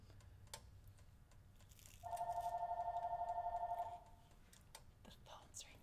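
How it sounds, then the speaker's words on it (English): A phone rings in a kitchen, a steady electronic trill lasting about two seconds, rapidly pulsing and clearly louder than the room, with quiet background noise and faint activity before and after. "The phone's ringing in here."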